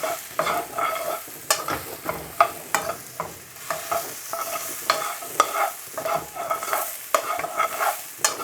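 Chilli and garlic frying in hot oil with crispy coated chicken, stirred steadily: continuous close sizzling broken by repeated scraping and tossing strokes in a loose rhythm, fairly loud and with no voices.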